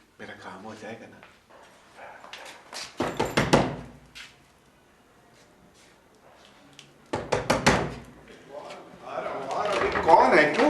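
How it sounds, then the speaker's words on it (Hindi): Someone knocks on a door in two sharp clusters of heavy raps, loud and close, with quiet room tone between them. Muffled voices come in near the end. "क्यों खटखटा रहे दरवाजा?"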